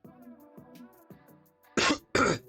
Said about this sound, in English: I'm gonna be coughing during the stream